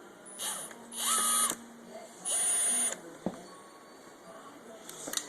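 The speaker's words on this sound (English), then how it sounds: "Let's go ahead and drill it out" A power drill with a 13/64 bit bores into a Yoshimura exhaust for a Yamaha R6, whirring in three short bursts with quiet pauses and light clicks between them.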